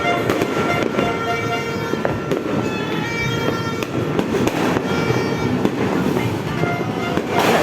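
New Year fireworks and firecrackers going off continuously in a dense, crackling barrage of pops and bangs at a moderate distance, loud and unbroken throughout, with faint voices underneath.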